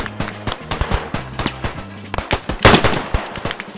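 Gunfire in the WWI video game Beyond the Wire: a rapid string of sharp, close rifle and machine-gun shots, some in quick bursts, with one louder blast near the end.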